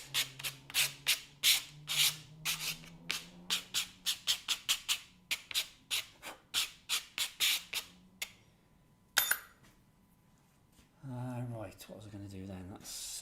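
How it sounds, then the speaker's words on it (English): Electric eraser working on a charcoal drawing on mount board, giving a series of short, quick buzzing rubs in an uneven rhythm, close and fairly quiet, followed by a pause and a brief longer burst. "I'm going to just go make a few marks with the electric eraser."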